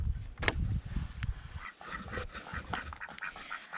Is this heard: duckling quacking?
yes